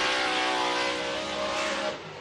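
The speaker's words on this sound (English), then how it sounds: "You can hear his exhaust note as far as lifting a bit there and then standing back on the throttle." A Formula D drift car at Orlando qualifying blares its exhaust loudly, holding a harsh steady note before easing off the throttle and coming back on near the end.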